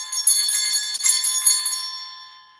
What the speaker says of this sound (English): This is like a big bell.